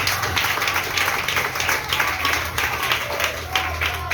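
A church congregation claps and cheers in praise of the Lord, a sustained ripple of applause with mixed voices rising and falling in a crowded hall over several seconds.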